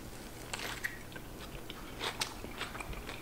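Someone bites into a Beyond Meat burger topped with lettuce, tomato, onion and ketchup, then chews, giving faint, close crunches and wet mouth sounds with a few sharper crisp snaps.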